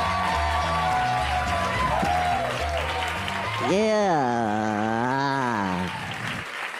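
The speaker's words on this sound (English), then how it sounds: "So let's put the hands together right now and welcome Mr. Mark Serritella!" Comedy club audience in New York City applauding and cheering loudly as a comedian is welcomed, steady clapping under music and a sustained vocal whoop.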